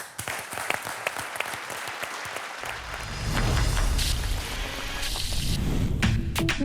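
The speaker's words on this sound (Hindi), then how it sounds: "जोरदार तालियों से स्वागत करते हैं" Studio audience on an Indian reality show applauds to welcome three contestants, sharp claps at first then swelling into a loud, dense wash of clapping with a low rumble underneath, no talking.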